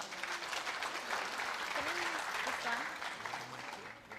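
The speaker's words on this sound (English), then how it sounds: "Just give it a round of applause, please." Steady audience applause at a university entrepreneurial fair presentation, continuous clapping through the whole stretch with some voices murmuring underneath.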